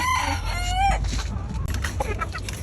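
Chickens cluck and a rooster crows close by on a small rooftop farm, one hen sitting after laying an egg, with overlapping calls from several birds over a steady low background hum.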